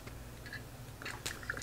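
Someone bites and chews a creamy, crunchy peanut butter protein bar up close, with soft, moist, squishy chomps and a couple of sharper crunchy bites toward the end.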